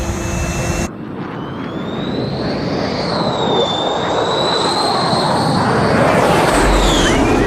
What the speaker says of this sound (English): Otter 1 is cleared to land, runway 21 right.